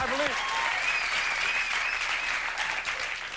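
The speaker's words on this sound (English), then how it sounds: "The audience is applauding no show, no guest." Steady, dense applause from a large late-night television studio audience fills the whole stretch, with a brief vocal sound at the very start.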